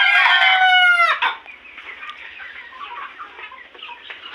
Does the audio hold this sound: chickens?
yes